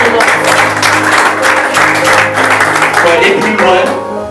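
A church congregation applauds during a French-language worship service, loud sustained clapping from many hands filling the room over a steady hum, tapering toward the end.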